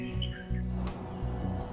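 Oriental magpie-robin (kacer) birdsong in the wild in the morning: a few short whistled chirps ring out over a steady low hum, fairly faint and brief.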